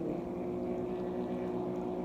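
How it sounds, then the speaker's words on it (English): A steady engine drone from passing jet skis and motorboats fills the air, a continuous low rumble with no voices. "And now there are more boats coming and more,"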